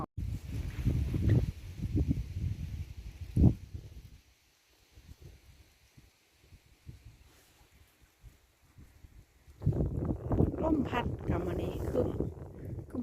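Wind gusts through a rose garden before rain, blowing against the microphone in loud rushing bursts at the start and again at the end, with quieter stretches between.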